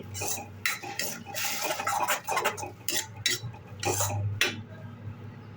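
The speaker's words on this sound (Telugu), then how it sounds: "టమాటో పేస్ట్ను కూడా బాగా వేయించుకోవాలి" Tomato paste fries in a pan for paneer masala while a spoon stirs it, giving repeated close scraping and clinking strokes over a soft, low sizzle.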